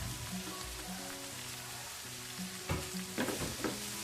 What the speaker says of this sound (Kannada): ಸೊ ಎಲೆಕೋಸು ಹಾಕಿದ ತಕ್ಷಣ ಸ್ವಲ್ಪ ತಿರುಗಿಸ್ರಿ